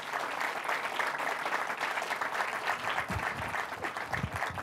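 Audience applause after a university last lecture, continuous dense clapping heard from within the room, steady and moderately loud without talk over it.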